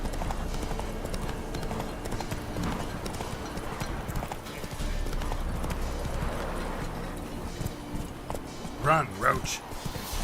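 Roach the horse from the video game The Witcher 3: Wild Hunt, hooves clip-clopping in a steady fast rhythm at moderate volume, with a voice briefly calling out near the end.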